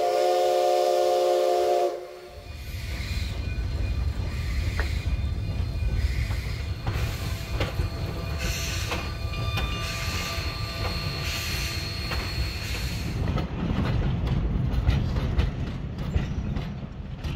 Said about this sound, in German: Dampflok.